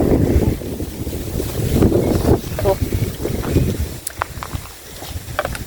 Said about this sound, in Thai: พี่น้องได้ยินเสียงลม